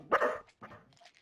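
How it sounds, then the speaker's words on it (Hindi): Dog barking in a first-person shooter game: two loud, close barks in quick succession, the second trailing into a higher whimpering tail. "अरे कुत्ता डरा दिया"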